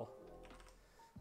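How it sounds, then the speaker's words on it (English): Quick, light clicking of keys on a computer keyboard, close by and fairly quiet, with a soft hum underneath. "I'm not typing well today"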